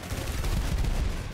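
Dense burst of gunfire from the video game ROUNDS, loud and continuous for over a second with rapid overlapping shots and no talk.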